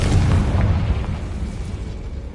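A Confringo spell explodes in Hogwarts Legacy, a loud, deep rumbling blast that fades over about two seconds, with no voices.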